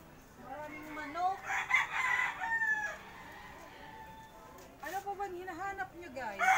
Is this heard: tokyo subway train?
no